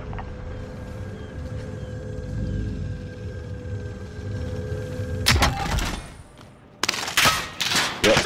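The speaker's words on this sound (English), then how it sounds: "I'm getting shot from somewhere" Gunfire crackles in a battle royale video game, with a burst of rapid shots breaking out after a stretch of mechanical ambience, then several sharp clustered volleys close by.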